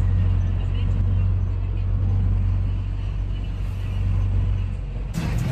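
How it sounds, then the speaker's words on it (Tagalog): Jeepney ride in Mabini, Batangas: a loud, steady low engine drone and road rumble fill the cabin throughout, with traffic noise around and a brief burst of brighter noise near the end. "sakay na po tayo ng jeep"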